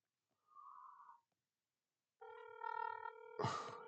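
A phone call's ringing tone: a short buzzy beep, a pause, then a longer steady multi-tone ring that ends in a burst of noise.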